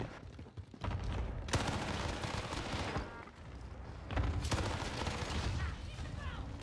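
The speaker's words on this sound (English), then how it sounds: "it was a gas cannon here" Gas cannon fire in Call of Duty Warzone on Rebirth Island, heard as dense rapid bursts of booming shots in two loud clusters, with gamers talking over the action.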